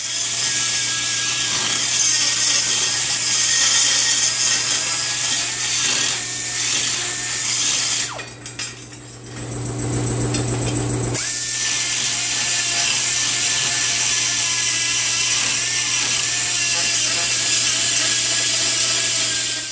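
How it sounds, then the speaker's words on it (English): A die grinder dresses weld beads flat on a custom brake pedal mount, a steady high whine with gritty rubbing that runs continuously, dips briefly in the middle, then resumes at the same level. "I'm just going to grind them off now with the die grinder."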